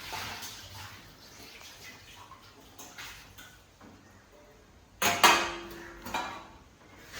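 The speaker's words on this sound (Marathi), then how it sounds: "तर चला आता पटकन भांडी घासून घेते" Dishes are washed by hand in a home kitchen after a meal of idli: soft water and scrubbing sounds, then a sharp clatter of metal utensils around five seconds, with faint talk in the background.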